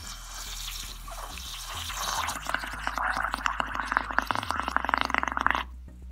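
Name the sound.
blowing bubbles in dish soap water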